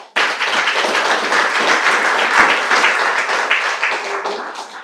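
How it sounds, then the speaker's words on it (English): Audience applause at a public history awards ceremony, a steady, dense clapping that starts abruptly and holds loud for about five seconds before thinning slightly. "Can we all give them a round of applause?"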